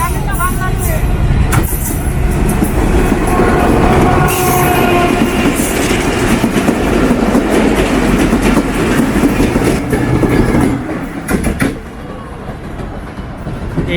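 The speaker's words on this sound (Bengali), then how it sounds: "এই রেল লাইন থেকেও কিন্তু ট্রেন চলাচল করছে দেখতে পাচ্ছেন আমার সামনে" A train runs along a railway line right beside a busy buffalo market at an Eid livestock fair in Alamdanga, its loud, steady rumble and wheel clatter dominating nearby before easing off toward the end.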